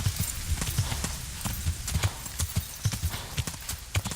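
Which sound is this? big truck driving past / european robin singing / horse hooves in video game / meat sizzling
horse hooves in video game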